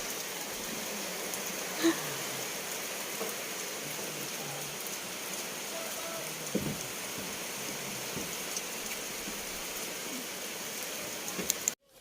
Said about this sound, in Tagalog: Ayun, umuulan po.